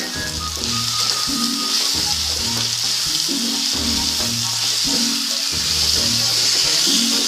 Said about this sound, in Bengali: আমি নুন আর চিনি বাদে বাকি মশলাগুলো সব দিয়ে দিলাম টমেটোটাও দিয়ে দিচ্ছি একটুখানি কষিয়ে নিয়ে